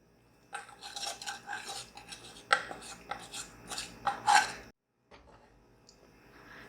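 A spoon mixing harissa, the Arabic wheat-and-meat porridge, in a pot: repeated scraping and clinking strokes of metal against the pot, close and irregular, pausing briefly before a softer final stir.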